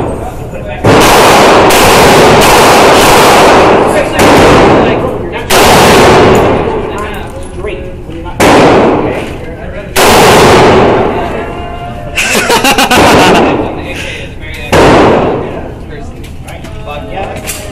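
Loud gunfire at an outdoor shooting range, with an AR-15 rifle among the firearms: repeated sharp shots, some in rapid strings, each trailing off in echo across the range, with people talking between the strings.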